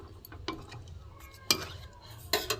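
Rice pudding made with parboiled rice and date-palm jaggery is poured and scraped out of a cooking pot, giving a few sharp clinks and scrapes of utensil against metal at irregular intervals, close and moderately loud.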